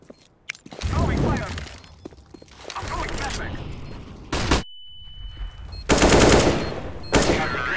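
Gunfire in the video game CS:GO, several loud close bursts of automatic rifle shots and single cracks spaced across the moment, with in-game effects and a voice talking between shots.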